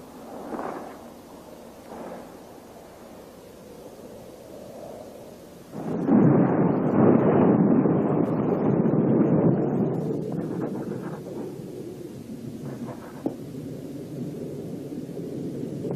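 A thunderstorm's thunder rolls in as a deep, loud rumble swelling out of a quiet, low background and slowly fading over several seconds, with faint earlier murmurs.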